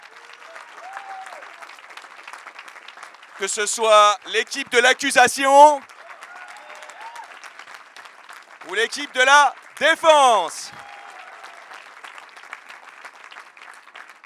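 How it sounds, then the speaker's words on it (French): Steady applause from the audience at a mock trial about remote work runs through the whole stretch, with someone speaking over it in two bursts. "Je pense qu'on peut applaudir les oratrices et les orateurs de ce soir bien fort."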